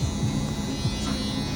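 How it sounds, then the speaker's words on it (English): Electric foil shaver buzzing on hair during a burst fade, a close, steady hum with brief scraping passes. "Now you're gonna go with your full shaver"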